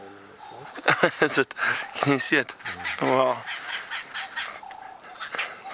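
Agitated babblers mobbing a boomslang snake, harsh chattering and repeated alarm notes, ring out close by in the bush while a person speaks quietly in between.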